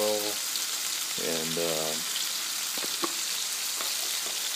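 Chicken sizzling in a pan of olive oil and a little butter, a steady frying hiss running under a man's speech, with a few small pops and clinks toward the end.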